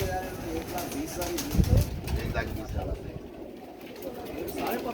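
A pigeon coos nearby in soft repeated calls, mixed with someone talking and some background noise and a brief thump.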